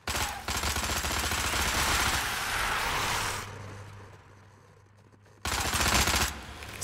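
Sustained automatic gunfire in Dead Frontier 2, a loud continuous burst that fades into a low rumble, then another loud burst at the end.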